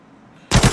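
Automatic gunfire in the shooter game Arena Breakout: after a short quiet stretch, a loud close burst of three rapid shots.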